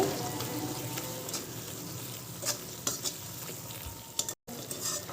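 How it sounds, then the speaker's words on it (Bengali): Beef stir-fried with cumin and coriander powder in a pan alongside raw plantain, giving a steady sizzle with repeated scraping stirs and a couple of sharper clatters, close up and moderate in level, with no voices. "দিয়ে দেব জিরা গুঁড়ো আর দিয়ে দেব ধনিয়া গুঁড়ো দিয়ে এটাকে ভালোভাবে সুন্দর করে কষিয়ে নেব"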